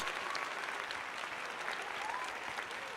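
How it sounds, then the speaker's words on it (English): A crowd applauds at a Phillies versus Braves spring training baseball game, a faint, distant, continuous wash of clapping with crowd murmur underneath. "So let's give him a round of applause."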